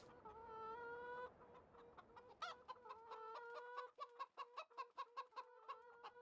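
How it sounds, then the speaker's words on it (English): Animated chickens in a small coop in Farming Simulator 17 cluck steadily, with a run of short, sharp rhythmic clucks toward the end, all fairly close and without talk. "Animated chickens in the little chicken coop."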